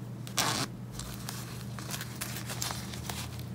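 A zipper on large black waterproof winter gloves is pulled once in a quick, close rasp, followed by soft fabric rustling and handling noise.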